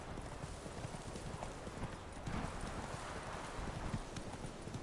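Roach, a horse in The Witcher 3 game, trots through White Orchard with hooves clip-clopping in a steady rhythm over a dense noisy wash, close and continuous.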